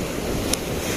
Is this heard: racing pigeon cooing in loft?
no